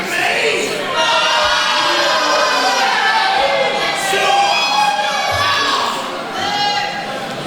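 A loud, dense crowd at a live wrestling event shouts and cheers continuously, with high excited voices and whoops rising and falling for several seconds.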